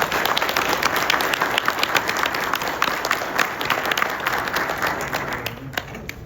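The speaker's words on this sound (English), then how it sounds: "give yourselves a round of applause" An audience at a county sheriff's office awards and promotions ceremony claps in a warm, continuous round of applause, with individual sharp claps standing out near the front, fading slightly toward the end.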